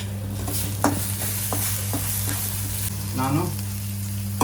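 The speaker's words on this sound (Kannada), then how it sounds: "ಸ್ವಲ್ಪ ಕ್ಯಾಪ್ಸಿಕಮ್ ಚೆನ್ನಾಗಿ ಫ್ರೈ ಆಗಲಿ" Capsicum sizzles loudly in a hot pan, a constant close frying hiss broken by several sharp spatula scrapes and knocks, with a low electrical hum beneath and one brief spoken word near the end.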